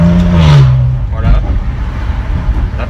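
A Maserati Ghibli S Q4 engine roars loudly and drops in pitch as it revs, then settles into a rumbling idle with a voice talking over it.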